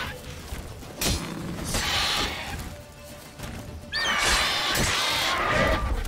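A horse in The Witcher 3 gives a whinnying neigh amid combat, with sharp crashes and metallic clashes around it and loud, busy game noise throughout.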